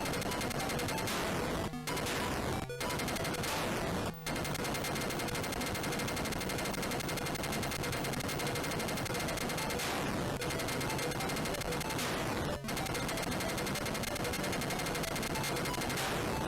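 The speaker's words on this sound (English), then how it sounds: "We do keep rapid fire when we move on to the next stage, that's good." Rapid-fire shooting in the Atari 8-bit game Screaming Wings, dense continuous chiptune machine-gun bursts running loud and steady for the whole stretch with a few short gaps, no talk.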